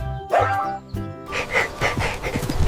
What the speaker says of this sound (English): This is a farm dog.